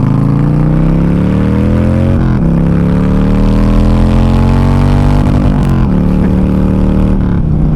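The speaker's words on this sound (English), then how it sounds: "This is a big beastly motor, doesn't like revving super high" A 2013 Harley-Davidson Forty Eight's big V-twin revs loud and close, its deep tone climbing steadily, dropping briefly between rising pulls and then climbing again, with no talking over it.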